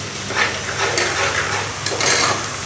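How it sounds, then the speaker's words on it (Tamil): Ginger garlic paste sautéing in a pan for a country chicken curry, a soft continuous sizzle with a few faint stirring scrapes, close and steady with no talking. "நல்லா வதங்கிருச்சு பாருங்க இஞ்சி பூண்டு பேஸ்ட்டு வதங்கிருச்சு"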